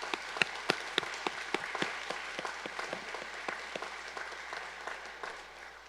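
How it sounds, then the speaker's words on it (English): Scattered, fairly light applause from an audience welcoming distinguished guests at a Veterans Day ceremony in Lexington, sharp individual claps over a steady patter, moderately distant in a hall. "Please join in a round of applause for our distinguished guests."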